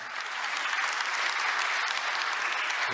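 An audience applauds at a government policy presentation event, a full, even burst of many hands clapping that swells slightly and sustains for the whole stretch.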